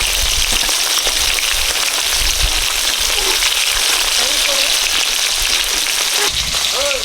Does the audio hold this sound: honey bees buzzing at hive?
no